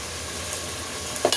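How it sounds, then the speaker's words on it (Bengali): Chicken pieces and bottle gourd sautéing in a pan, a steady bright sizzle with faint stirring scrapes and a small clink near the end. "এটা দিয়ে আবার একটু ভালো করে কষিয়ে নিচ্ছি"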